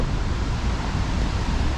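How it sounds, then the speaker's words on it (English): The second largest waterfalls in Ontario, on the Canadian shore of Lake Superior, give a steady, dense roar of falling water with deep rumbling underneath, continuous and even for the whole moment, with no voices. "these are the second largest waterfalls in Ontario"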